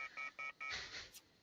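Ringing phone-call tones in the video game YiiK, a series of four short electronic beeps in quick rhythm followed by a brief softer sound, faint and alone with no talk.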